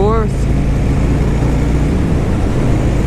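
A vehicle engine runs steadily in fourth gear at highway speed, around 55 mph, a continuous loud low drone with road noise, not straining, after a brief chirp at the start.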